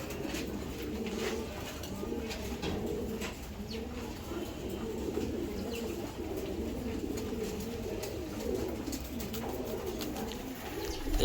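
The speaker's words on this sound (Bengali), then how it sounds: "এটা একটা নর কবুতর" A male racing pigeon coos in a loft among other birds, rolling bubbling calls repeating steadily throughout at close range.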